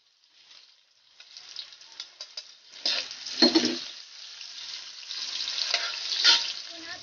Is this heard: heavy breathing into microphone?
no